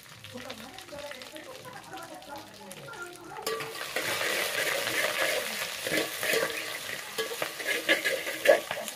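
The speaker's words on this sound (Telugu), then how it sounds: "ఆపేసుకుని ఆ వేడిలోనే వేగుతుందండి." Drumstick leaves and curry leaves sizzle and crackle loudly in a hot pan off the flame, a dense steady frying hiss that rises sharply a few seconds in, with stirring scrapes and talk over the start.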